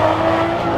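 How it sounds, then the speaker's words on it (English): A Lamborghini Aventador engine revs in one short, loud, sustained roar with a bright, rasping edge, close up and with no voices. "It feels good to be back in the Aventador. This thing absolutely sings."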